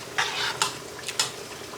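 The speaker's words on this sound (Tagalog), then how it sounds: "Haluin nyo para kumulay." A spoon stirs goto, a Filipino rice porridge, with saffron in a pot, making four short scraping strokes over a faint sizzling hiss.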